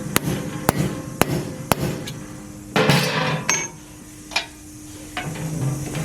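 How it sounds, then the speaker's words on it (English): Sharp metallic hammer blows strike four times at a steady pace, starting valve guides into a Jeep 4.6 stroker cylinder head, followed by a few scraping clanks and a brief louder knock. "I always start them with a hammer."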